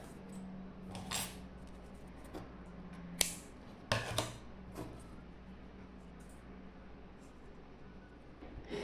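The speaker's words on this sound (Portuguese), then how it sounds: "E agora eu vou cortar essa linha." Scissors snipping crochet yarn while making an amigurumi sea-themed mobile: a few sharp, close metallic snips and clicks over a steady low room hum.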